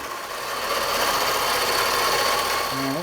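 A lathe takes a cutting pass on aluminum stock, a steady close whirring and scraping hum that holds evenly for a few seconds before the motor pitch drops as it slows at the end.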